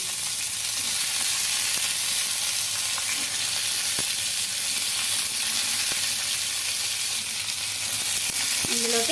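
Green chilies and tomato pieces fry in oil in a small kadai, giving a loud, continuous close sizzle with occasional faint stirring taps, no voices.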